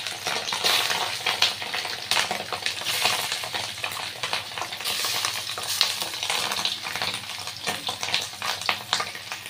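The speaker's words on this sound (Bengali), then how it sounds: "নুন হলুদ দিয়ে মেখে নিয়েছি, ওটা ভেজে নেব।" Loud, continuous sizzling of catla fish roe, coated in salt and turmeric, frying in hot oil, with occasional scraping and stirring in the pan.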